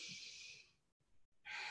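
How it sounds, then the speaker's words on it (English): Ujjayi yoga breathing, drawn through the nose with the mouth closed and the back of the throat constricted, giving a soft hissing rush on the exhale, a brief pause, then another airy breath beginning. "keep the mouth closed and fogging up in the back of your throat for your Ujjayi breath"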